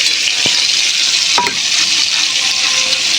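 Ginger, garlic and onion paste frying with softened tomato in a pan, a steady loud sizzle throughout with a few brief spoon scrapes and stirring knocks.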